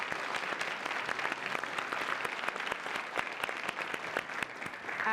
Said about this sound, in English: a very, very warm round of applause to all of our panelists